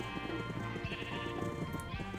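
Sheep in Minecraft bleat repeatedly, several overlapping calls close together, over a busy layer of game sounds.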